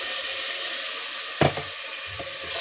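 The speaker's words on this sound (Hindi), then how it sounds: "इसमें अब हम अदरक लहसुन का पेस्ट डाल के इसको भूनेंगे" Ginger garlic paste and masala paste sizzle steadily in hot oil, a close, continuous frying hiss with a brief louder burst of stirring and spattering partway through.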